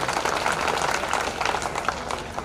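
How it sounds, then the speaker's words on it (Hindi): Applause from an audience at a felicitation ceremony held by a Patel community association honouring Shivaji and Patel, a dense, steady clapping texture filling the whole stretch with cheering mixed in. "उनके लिए एक बार जोरदार ताली बजाइए।"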